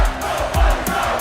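A loud stadium crowd in the EA Sports College Football 25 video game roars and cheers continuously, a dense wall of massed voices with rhythmic swells.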